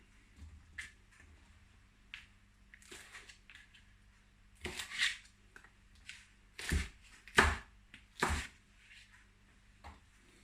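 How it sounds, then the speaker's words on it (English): Knife chopping the tops and tails off okra on a cutting board, a series of sharp, close cuts coming in irregular bursts with quiet gaps between them. "we're going to just cut up our okra. Cut the tops off."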